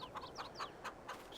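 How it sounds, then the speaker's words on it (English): Chickens in the Farming Simulator 22 game clucking in short repeated bursts, several quick calls spaced across a quiet farm background, moderately close with no talk. "How's our chicks doing?"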